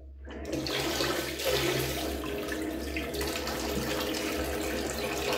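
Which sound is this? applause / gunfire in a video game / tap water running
tap water running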